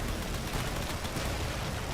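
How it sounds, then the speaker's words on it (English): Dense, continuous railgun fire in the space game Drone Wars, with battleships pushing through armor, forms a steady, rumbling barrage of overlapping shots at moderate loudness. "There's a lot of railgun fire being shot out here trying to push through the armor on this battleship"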